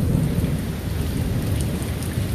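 Heavy rain pouring steadily during a loud Austin thunderstorm, with a deep rumble of thunder rolling underneath, a dense continuous wash heard close and without voices.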